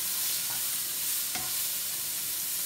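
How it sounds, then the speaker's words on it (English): Frozen vegetables sizzle in oil in a preheated pan, with a steady, even hiss and one brief clunk partway through, close and moderately loud. "And we got some vegetables, frozen vegetables. We'll fry that up a little bit."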